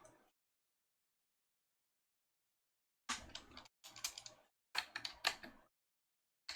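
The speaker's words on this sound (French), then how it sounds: "Utiliser le clavier de mon téléphone." Three short bursts of quick, light tapping, like fingers typing on a phone keyboard, close by in an otherwise silent room.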